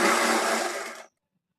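A sewing machine stitching a seam on a Punjabi dress top: a steady, even motor whir for about a second before stopping abruptly into silence.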